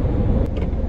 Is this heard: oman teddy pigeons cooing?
no